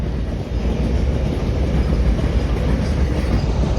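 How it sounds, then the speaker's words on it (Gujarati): Close, loud rumbling roar of a goods train rolling past a closed level crossing, continuous and steady with rhythmic wheel clatter and no voices. "ફાટક બંધ થઈ ગઈ છે આ ટ્રેન આવ્યા છે"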